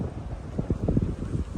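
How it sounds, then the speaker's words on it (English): Steady gusty wind buffets the microphone with low rumbling roar, continuous and fairly loud throughout. "It's really a kind of windy day."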